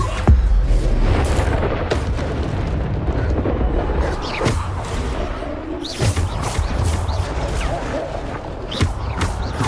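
Bombarda spell blasts in the Hogwarts Legacy video game boom and crash repeatedly over a dense, rumbling battle din, with sharp bursts recurring throughout amid busy combat effects.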